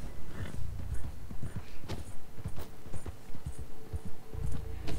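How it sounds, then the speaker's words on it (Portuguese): An Arabian horse's hooves clip-clop in Red Dead Online, a steady walking rhythm of close, distinct hoof strikes with no talk over them. "não era o meu cavalo árabe, era a Sherry Black"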